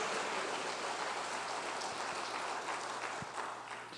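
A church congregation applauds during a sermon, a dense, continuous crowd clapping that stays steady and fairly loud throughout before easing slightly at the end.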